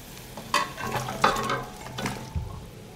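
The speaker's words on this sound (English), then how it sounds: "I put the pepper in the boiled marinade" Peppers dropped into a pot of boiling marinade, giving a few brief splashy bursts and a low bubbling, stirring noise, close and moderately loud with no talking.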